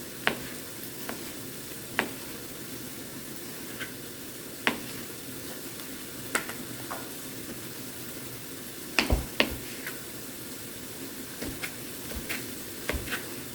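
Onions cook in a pan for turkey stroganoff, giving a steady, moderately quiet sizzle with scattered small pops and clicks throughout.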